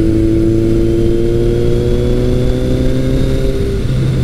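A Kawasaki KZ1000 motorcycle fitted with a Delkevic exhaust drones loudly and close on a back road, its steady engine tone holding under acceleration before a brief drop, as if changing gear, near the end.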